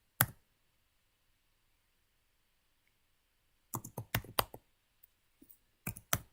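Bursts of keystrokes on a computer keyboard while writing CSS grid code: a single tap, a long pause, then a rapid cluster of clicks and a few scattered taps, close and crisp in a quiet room.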